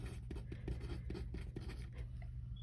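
A math inequality handwritten with a pen or marker, producing soft, irregular scratches and taps in short strokes against a faint steady hum.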